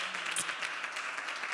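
A church congregation claps in a brief, steady patter of applause, moderately loud and fairly even, with a faint voice or tone mixed in near the start.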